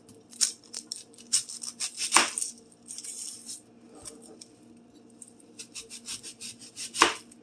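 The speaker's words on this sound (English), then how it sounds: "Go ahead and cut up an onion." A knife chops an onion on a board in quick, irregular bursts of close, crisp cuts, with a few heavier knocks and short pauses between runs.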